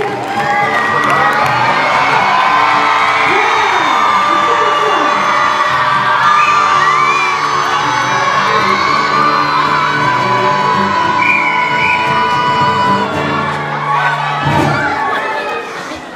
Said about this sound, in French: on les encourage, on tape les mains, on peut siffler, on peut crier